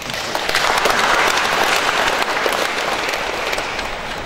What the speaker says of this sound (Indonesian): kita memberi aplaus yang meriah